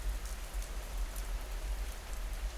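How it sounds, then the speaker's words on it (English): Heavy rain strikes the broad, waxy leaves of a centuries-old beech canopy in the Cotswolds, producing a dense, steady patter of countless droplets with a low rumble beneath and no voices. "It is a loud, chaotic clatter-tap as thousands of heavy droplets strike the broad, waxy leaves"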